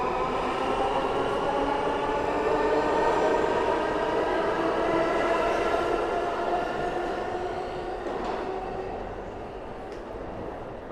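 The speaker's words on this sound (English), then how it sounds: "that was a Whitehall Street bound W train at the Prince Street station" A Whitehall Street-bound W subway train rumbles through Prince Street station in New York, a loud sustained rolling roar with a metallic whine that slowly fades as it pulls away.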